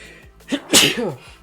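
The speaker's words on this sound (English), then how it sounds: "I don't know why I'm sneezing." A single sharp human sneeze, close and loud, with a short breath intake before it and a trailing voiced release afterward.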